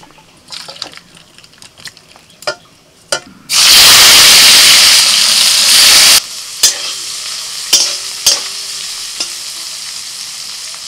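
Sliced bitter gourd and potato frying in a pan, with a loud burst of sizzling as they hit the hot oil, flanked by sharp scraping clicks of a spatula stirring, and no talking.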